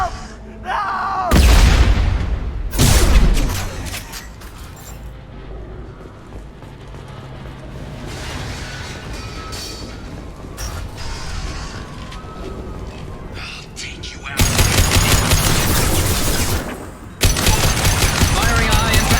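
Gunfire in Mass Effect Legendary Edition: heavy bursts of weapon fire with booming impacts, loud sustained volleys near the start and again toward the end, separated by quieter mechanical clatter and combat ambience.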